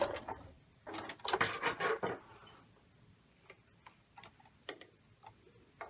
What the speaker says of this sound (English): And we'll do a little bit of back stitching here.